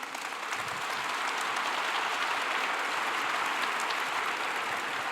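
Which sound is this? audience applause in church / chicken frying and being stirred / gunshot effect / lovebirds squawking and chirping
audience applause in church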